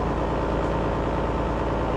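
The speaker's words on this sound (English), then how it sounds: "There goes the other tour boat," A steady, low tour boat engine rumble drones continuously at moderate volume as the boat passes nearby on the Tha Chin River in Thailand, with no voices.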